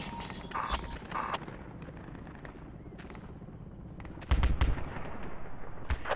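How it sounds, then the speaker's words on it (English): Bursts of gunfire in a Project Reality military shooter battle, with a heavy close report near the end and scattered shots throughout, faint background action under the mix. "He's shooting at us."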